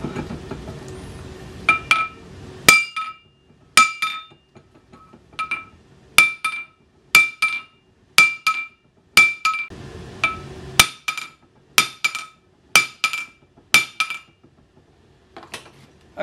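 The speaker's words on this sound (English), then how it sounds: "I'm going to angle the hammer so I actually put dents in it" Sharp metallic hammer blows ring out on a Nuffield/Leyland tractor halfshaft seal collar, close and loud, struck singly and in quick pairs with ringing decay between hits, a grinding scrape heard between some of them.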